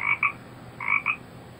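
Two pairs of short, bright frog croaks are played as a sound effect from a Google Assistant speaker, each quick double burst separated by a brief pause, clear and alone.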